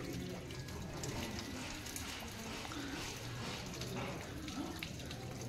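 A soft, steady stream of spring water pours from a spout and splashes continuously, fairly quiet and unbroken throughout.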